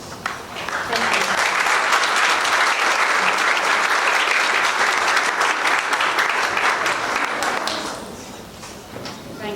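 Sustained applause from an audience at a school promotion ceremony, loud and steady for most of the clip before tapering off near the end.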